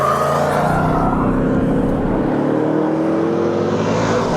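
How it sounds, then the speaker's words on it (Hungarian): Ford Mustang Dark Horse V8 engine pulling steadily on a race track, a loud, deep continuous rumble held close by for the whole stretch with no pauses and no voices. "amíg nem mész vele őrülten, addig nagyon szép V8, és aztán jön ez a mennydörgés"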